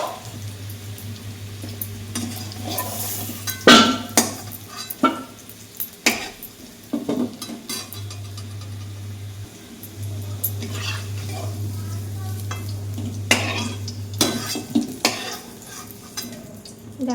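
Fried potatoes are stirred in a pan and lifted out, with scattered metallic scrapes and clinks of a utensil against the pan over a low, steady burner hum; sizzling stays faint underneath.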